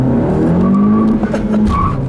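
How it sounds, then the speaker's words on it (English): Tuned 2018 Honda Civic Si coupe with a 1.5-liter turbo four-cylinder spinning its wheels in sport mode on a back road: a loud, close engine rising in pitch over a squealing tire screech. "Oh man, wheel spin galore."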